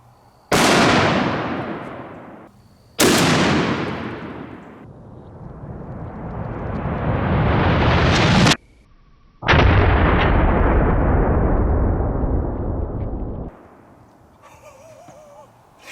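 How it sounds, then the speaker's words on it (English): A Barrett .50 caliber rifle fires four very loud booming shots during a torture test, each followed by a long rolling echo, with pauses between blasts and no speech. "There's 2 rounds in there, so we'll know if it cycles the next round."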